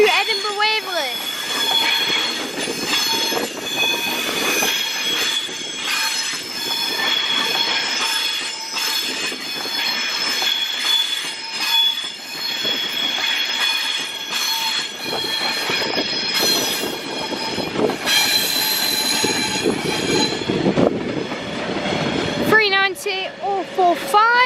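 Class 390 passenger train number 390 047, running London Euston to Edinburgh Waverley, moves through Crewe station with loud rolling rumble, metallic wheel squeal and clatter lasting throughout, ending in a brief high squeal; a voice talks over it.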